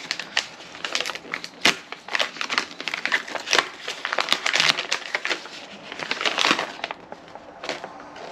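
A taped package being opened by hand: dense, close crinkling, crackling and tearing noises with sharp rips and pops, irregular and continuous throughout.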